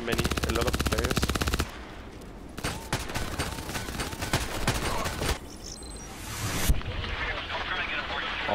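Rapid automatic gunfire in the online shooter Contract Wars, bursts of rattling shots broken by brief pauses, loud and close, with a voice talking over the action.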